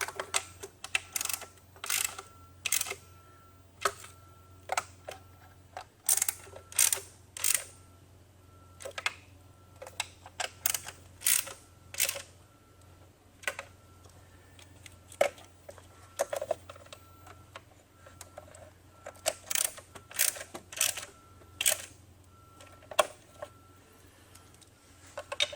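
Bolts being snugged down on an oil separator install on a 2013-2018 Ford Escape 2.0L EcoBoost, heard as quiet, irregular ratcheting clicks in short bursts across a faint background hum.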